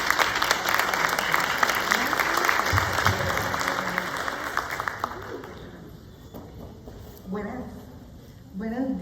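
Applause from the audience at a book presentation starts strong, then thins and fades over several seconds, with voices talking beneath it toward the end.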